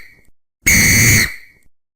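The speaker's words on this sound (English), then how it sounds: "Take the common whistle, for example." A common whistle is blown once in a single loud, steady shrill blast of about half a second, alone against near silence.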